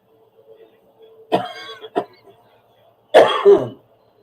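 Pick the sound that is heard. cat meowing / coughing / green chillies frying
coughing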